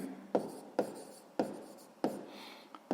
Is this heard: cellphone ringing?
no